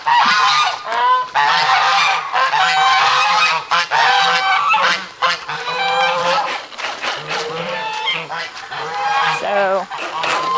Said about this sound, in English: And if you can hear me over the geese.